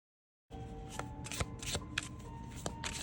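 Oracle cards being shuffled by hand, a run of sharp papery riffles and slaps starting after a brief silence, close and fairly quiet over a low steady hum.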